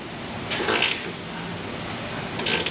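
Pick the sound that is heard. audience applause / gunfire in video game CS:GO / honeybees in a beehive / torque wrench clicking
torque wrench clicking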